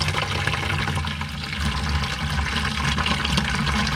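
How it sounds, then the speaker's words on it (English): Water gushes and splashes out of an oil filter on a Cat 3412 diesel engine in a steady stream, close by, with a continuous rushing, gurgling sound and no voices. "There's a bunch of water coming out of the filter."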